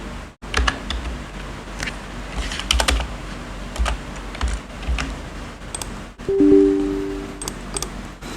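Typing on a computer keyboard, a close run of crisp key clicks in uneven bursts with short pauses, no talking.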